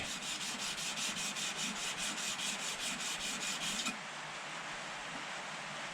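The back of a Record 80 cabinet scraper is rubbed flat on an abrasive surface to remove a burr nick, giving a steady, close, loud scraping hiss in quick repeated strokes that settles into a smoother continuous rasp.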